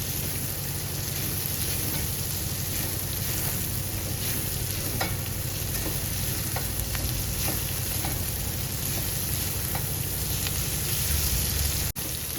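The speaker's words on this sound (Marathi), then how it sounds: "चांगलं तेलावर परतून घ्यायच्या व्यवस्थित" Green chillies fry in oil in a pan, giving a dense, constant sizzle with occasional stirring scrapes, close and loud throughout with no talking.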